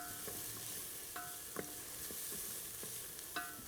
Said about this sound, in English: our mixture has been sauteing